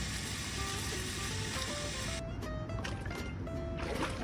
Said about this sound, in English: So all I'm going to do now is rinse off my boots again